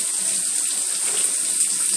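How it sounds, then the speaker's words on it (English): Tap water runs steadily into a sink while a bowling ball is rinsed, a continuous close hissing splash with no talk. "I'm going to rinse it off with water this time"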